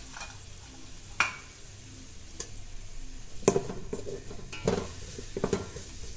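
Ginger paste and spices fry gently in a pot for pulao, a soft low sizzle broken by several sharp spoon clinks and stirring knocks against the metal.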